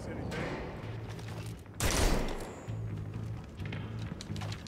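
Gunfire rings out in the Gotham Knights video game as Red Hood shoots, with short, repeated bursts of shots and one sharp, louder blast. A player talks over the shooting.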